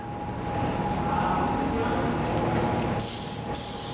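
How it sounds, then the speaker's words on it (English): A fine aerosol of Chemical Guys Black on Black hisses steadily for about three seconds around the wiper cowl of a BMW M3 engine bay, then cuts off, with faint background noise throughout. "I'm just going to spray right around the wipers to make sure that it looks its best."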